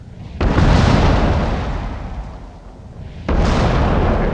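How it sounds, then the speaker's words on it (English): A World of Tanks tank gun fires twice, roughly three seconds apart, each a heavy close booming blast with a long rumbling decay. "I'm just going to fire one off."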